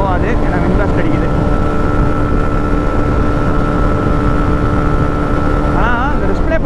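A 2024 Hero Xtreme 125R motorcycle runs flat out near 120 km/h, with loud, constant wind blast roaring over a steady engine drone throughout.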